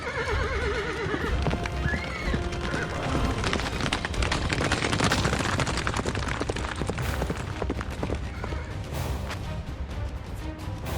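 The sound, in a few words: cavalry horses galloping onto the field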